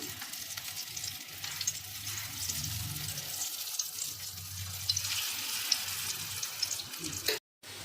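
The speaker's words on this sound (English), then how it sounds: "When the oil is hot, drop the patties one by one." Raw banana patties frying in hot oil in a pan: a steady, close sizzle and crackle that runs throughout, with faint stirring and clinking, then a brief cut to silence near the end.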